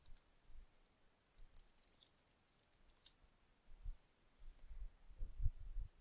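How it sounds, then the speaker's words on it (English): Computer keyboard keys are pressed in a few faint, scattered clicks over a quiet, low hum, with no voices. "type and other items and press your space bar"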